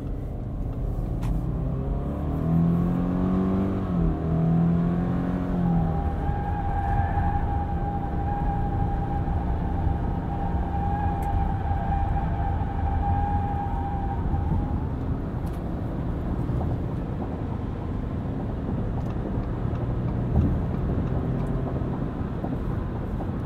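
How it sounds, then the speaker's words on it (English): A 2020 Subaru Forester Limited cruising at highway speed on a loud concrete highway, a steady broad road and tire roar filling the cabin without pause, with brief tonal hums early on. "This is a bit of a loud section of concrete highway, but still give you an idea of how the car sounds."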